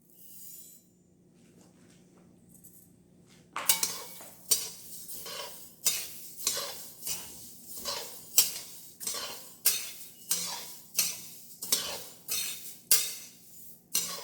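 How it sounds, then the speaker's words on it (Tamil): Spices for sambar powder dry-roasting in a pan on low heat, a spoon or spatula scraping and clinking against the metal in a steady rhythm of close, loud strokes after a few quiet seconds, with no talk. "பார்த்தீங்களா, இந்த மாதிரி வறுக்கணும்."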